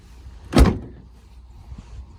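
The rear liftgate of a 2012 Chevy Tahoe on gas struts swings down and shuts with one solid thud, followed by faint settling sounds and quiet surroundings.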